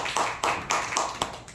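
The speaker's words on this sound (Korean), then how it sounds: "박수로 하는 게임을 보이겠습니다" A rhythmic clapping game at a Korean church New Year's Eve service: about six sharp, evenly spaced claps ring out fairly close, with a faint voice underneath.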